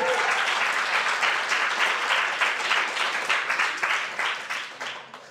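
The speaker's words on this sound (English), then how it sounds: "give yourselves a big round of applause" A live audience at a children's talks event applauds steadily, dense clapping filling the room before tapering off toward the end, with no talk over it.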